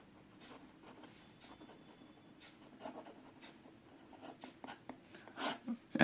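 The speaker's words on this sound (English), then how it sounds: "Now some reverse writing." Nib of a Jinhao 992 fountain pen inked with Parker Quink Black scratching across paper while writing reverse-side strokes, a close, dry, irregular scritching that grows louder and more clustered toward the end.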